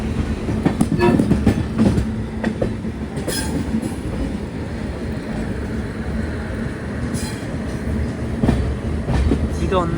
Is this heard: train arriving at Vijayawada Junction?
yes